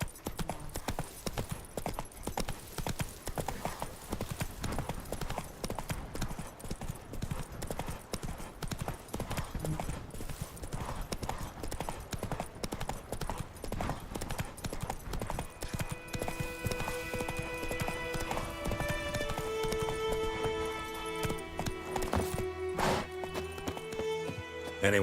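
Geralt's horse Roach gallops in The Witcher 3 video game, with steady, rapid hoofbeats close by throughout, and a musical tone comes in over the hooves partway through.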